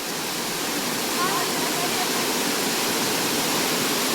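Flowing water in a village stream where children fish and bathe, a loud continuous rushing like a small waterfall, filling the whole clip with no voices over it.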